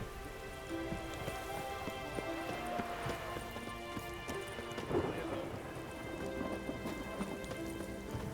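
Steady rain pours in The Witcher 3: Wild Hunt with a rumble of thunder rolling through, mixed with a low musical drone and scattered clatter.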